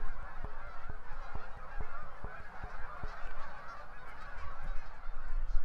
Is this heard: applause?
no